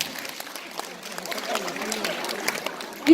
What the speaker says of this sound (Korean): 이분들에게 박수 한번 부탁드리겠습니다